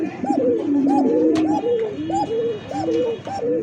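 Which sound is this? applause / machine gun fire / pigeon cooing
pigeon cooing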